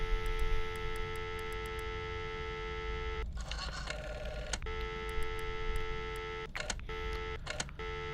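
Phone dialing inside the Friday the 13th video game: a steady electronic tone bed broken by several short bursts of keypad beeps in quick succession, clear and fairly loud with no voices.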